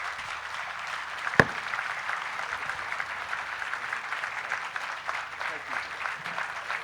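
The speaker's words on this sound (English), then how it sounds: "please give him a very special round of applause" Audience applause at a literature festival session in Jaipur, steady sustained clapping from a large crowd throughout, with one sharp knock early on.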